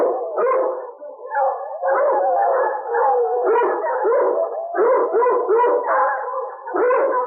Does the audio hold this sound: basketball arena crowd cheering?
no